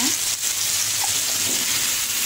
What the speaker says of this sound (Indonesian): Kita masukkan oyongnya.